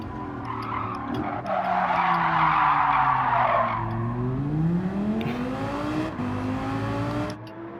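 A Lamborghini Huracan on a lap, its engine note rising and falling through gear changes while the tyres skid and squeal loudly for several seconds, heard close and continuous.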